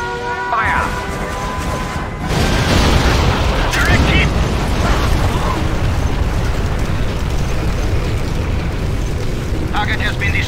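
A loud bombing explosion in the C&C Generals China campaign on brutal difficulty: a heavy blast bursts in after a short lead-in and rolls on as a sustained roaring rumble, with radio-style voice chatter over it.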